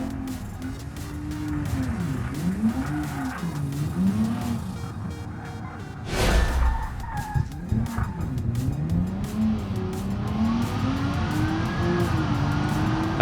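In BeamNG, a car brakes late and its tires squeal and skid over a loud engine that rises and falls with shifts, with a sharp thump midway and continuous tire noise throughout.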